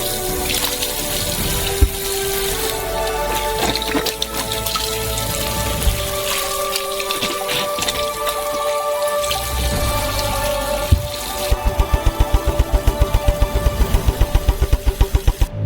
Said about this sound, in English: Fill it up with water. And each orange needs to be thoroughly washed.